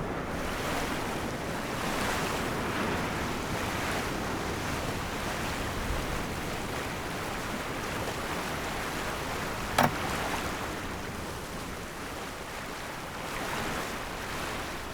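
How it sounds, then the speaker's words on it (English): Strong wind and rough seas aboard a sailboat off Hawaii: a continuous roar of wind buffeting the microphone over surging, crashing waves, with one sharp knock midway and no voices. "we have these strong winds"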